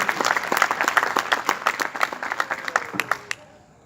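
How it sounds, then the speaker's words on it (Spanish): A church congregation breaks into brisk, dense clapping during a sermon, many hands close and loud in a steady patter that thins and stops near the end. "Den un aplauso a Jesús"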